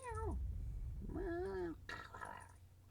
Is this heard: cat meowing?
yes